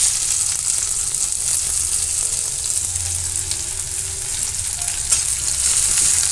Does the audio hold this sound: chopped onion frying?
yes